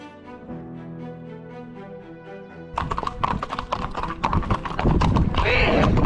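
Several horses on a four-day trek clop their hooves in a quick, irregular rhythm on hard ground, close and fairly loud, following a stretch of melodic music, with brief voices mixed in.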